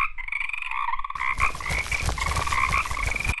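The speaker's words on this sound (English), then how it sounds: "Frog." A cartoon frog croaks in a steady run of loud, close, buzzy calls that start faintly and then swell over a busy soundtrack, with no talking.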